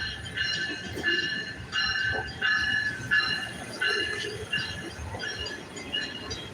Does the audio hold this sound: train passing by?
yes